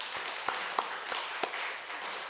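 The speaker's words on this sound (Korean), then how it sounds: "하나님께 영광의 박수 돌려드리겠습니다" Church congregation gives a faint, sparse round of clapping, with a few distinct louder claps standing out over a soft background wash of hands.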